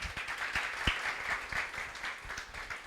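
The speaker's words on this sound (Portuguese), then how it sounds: "palmas" A church audience in a worship service gives a member a round of applause, with steady, moderately distant clapping that sounds thin.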